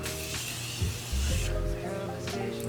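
Morphe Continuous Setting Mist is sprayed in a soft, quiet hiss that runs as a sustained burst, then a brief second puff follows after a pause.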